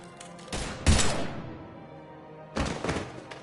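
Gunfire in the video game Mass Effect 3: a couple of heavy, thudding bursts of shots about two seconds apart, loud and close, with a quieter lull between them.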